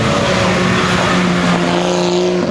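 A 1956 six-cylinder, 3-litre direct-injection vintage race car of 215 hp roars loudly and steadily at close range during the Rossfeld hill climb, holding a sustained engine note with a slight pitch shift as it passes.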